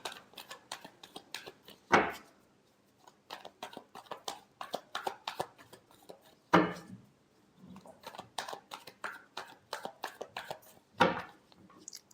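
Tarot cards being shuffled by hand, with rapid riffling flutters broken by three heavier thumps as the deck is squared, close and fairly quiet with no talking.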